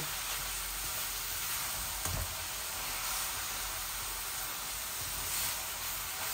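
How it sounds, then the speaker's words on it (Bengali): Chopped lai greens frying in a pan make a soft, even hiss and sizzle that runs throughout, with a faint knock partway through and no voices. "আর একটু ভাজা ভাজা হয়ে যাক,"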